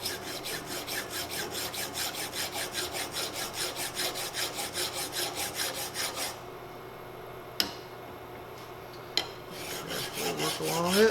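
A hand file rasps back and forth along a ramrod pipe clamped in a vise, with steady rhythmic strokes up close for about six seconds, then a quiet pause broken by two sharp clicks before the filing resumes.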